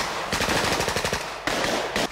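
Rapid machine gun fire rattles in dense bursts from a 1976 French comedy film trailer, loud and close, with a brief pause before a second burst.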